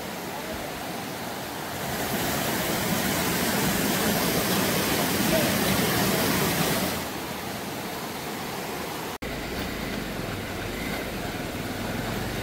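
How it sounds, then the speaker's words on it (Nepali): Swollen Bhandari river floodwater rushes past in a loud, continuous roar that swells for several seconds and then settles to a steady churning wash, with brief voices under the noise. "पानी पनि आज भण्डारी खोलामा निकै धेरै रहेछ,"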